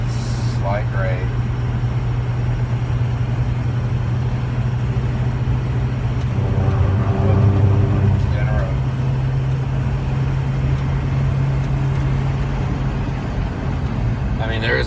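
A car engine drones steadily under light throttle while climbing a slight grade on a highway, a constant low hum throughout with faint voices briefly heard over it.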